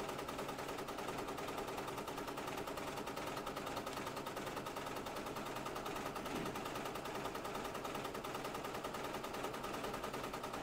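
An embroidery machine fitted with a Microtech leather needle stitches an applique with a fast, even, continuous mechanical chatter, steady and close throughout, with no talking.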